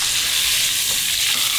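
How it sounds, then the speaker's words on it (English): Beef searing in olive oil in a hot pan, a loud, dense, continuous sizzle close up with no pauses. "I'm just gonna toss this in and sear up all sides."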